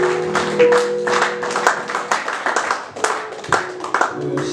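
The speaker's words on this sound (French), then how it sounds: "Acclamons pour Jésus." A church congregation claps along in a steady, lively rhythm, with many hands sounding close together and a faint musical tone humming underneath.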